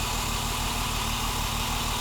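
BMW M1 engine idling with one cylinder down, a steady, loud, close mechanical drone with a faint uneven pulsing beat and no talk.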